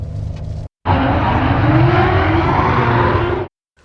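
A 2026 Nissan Frontier Pro 4X R by Roush driving at SEMA 2025: a loud, steady broadband roar of engine and tires that cuts in after a brief gap and holds for about three seconds before stopping abruptly.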